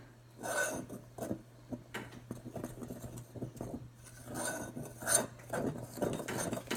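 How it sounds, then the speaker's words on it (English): A spoon gives a quick stir to a cream of tartar mixture for aromatherapy playdough, making close, intermittent scraping and light clinking strokes against the bowl over a low steady hum. "And we're gonna just give this a quick stir."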